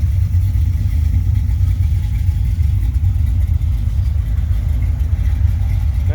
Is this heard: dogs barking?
no